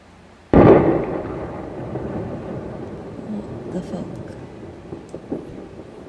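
A sudden loud explosion in Golders Green, London, heard from about half a mile away, booms and rolls off into a long rumbling tail with scattered smaller pops and cracks; voices can be heard faintly in the background.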